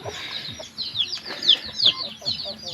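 Chickens in a small backyard coop cluck and squawk in a busy, repeated series of short calls close by, with faint background rustling.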